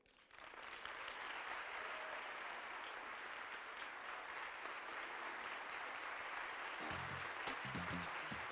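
Health summit audience applauding Sheryl Lee Ralph, dense sustained clapping that swells quickly and holds steady, fairly distant and even, with a few louder nearby claps near the end.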